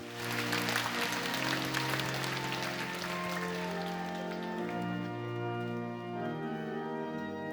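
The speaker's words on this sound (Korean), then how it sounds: "우리 하나님께 큰 영광의 박수로 올려드리겠습니다." Congregation applause at a Korean church prayer meeting, a broad, steady wash of clapping filling the room, with sustained organ or keyboard chords held underneath throughout.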